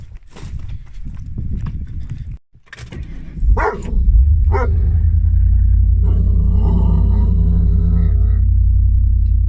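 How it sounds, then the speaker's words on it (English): A dog gives a few sharp barks as a car engine cranks and catches, then settles into a loud, steady idle rumble that runs to the end. "Did you hear the perfect timing of Hank's bark to my starting the car."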